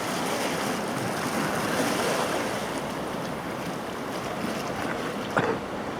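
Surf washes continuously onto East Sands beach at St Andrews, near the pier, a broad hissing roar of waves mixed with gusting wind on the microphone and one brief knock near the end.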